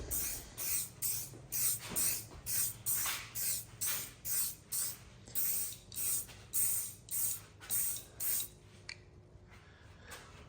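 Behr Premium black spray paint sprayed onto plastic parts in repeated short bursts, roughly a dozen steady hisses with brief gaps between them, close and fairly loud, trailing off to quiet near the end.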